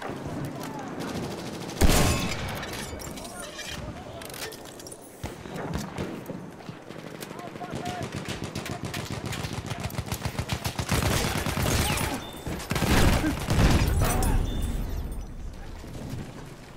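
Sustained gunfire from the video game Battlefield 1, rapid rattling bursts with loud impacts and a big blast near the start, dense and continuous throughout with faint voice in the mix.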